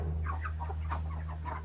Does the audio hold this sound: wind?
no